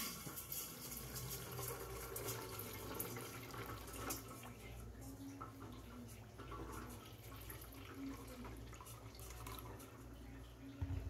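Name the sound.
water being poured into a puto steamer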